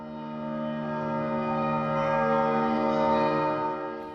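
Church bells at Grace Cathedral on San Francisco's Nob Hill ring out together in a sustained, rich wash of overlapping tones. The sound swells and lingers with no talking.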